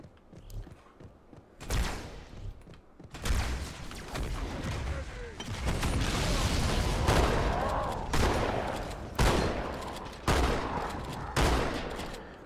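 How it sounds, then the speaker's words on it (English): Heavy shotgun blasts fired at Brutes in Halo 2, loud booming shots spaced roughly a second or so apart amid chaotic combat noise. "this shotgun is so much better against brutes"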